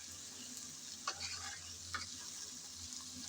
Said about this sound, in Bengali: এখন সব মশলা আর চিংড়ি দেওয়ার পর নেড়ে চেড়ে ভালোভাবে কষিয়ে নেব।